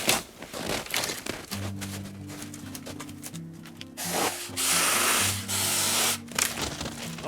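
A Tomyvic 6-inch mini chainsaw with a swivel chain guard cuts a yard branch. A small motor whines in steady tones broken by scratchy rasping bursts as the chain bites, with brief pauses between cuts.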